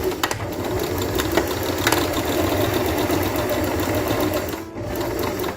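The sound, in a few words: sewing machine back stitching face mask fabric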